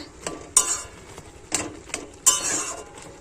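Boiled taro leaves stirred in a metal pot: a utensil scrapes and clanks against the pot in several sharp, irregular knocks, with softer shuffling strokes between them, close by and with no talk.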